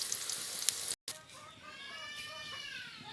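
Potatoes fry in oil with a soft, continuous sizzle after a brief cut; faint and steady, with a voice speaking over the start.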